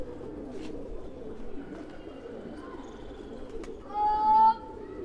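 Pigeons kept by a fancier, including a crested bird, coo softly against steady background noise, with a brief clearer burst of calls near the end.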